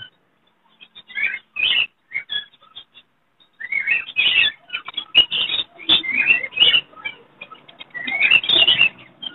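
Fischer's lovebird breeding pairs at an outdoor bird market chirp in shrill bursts that come in clusters with short pauses, some calls sharp and close, others overlapping in busy flurries.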